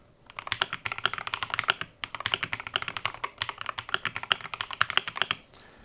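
Rapid typing on a Royal Kludge mechanical keyboard: dense, continuous clicking keystrokes, close and clear, with a short pause near the middle before the typing resumes.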